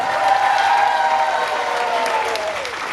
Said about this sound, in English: If you think his cake looks the best, big round of applause for Gary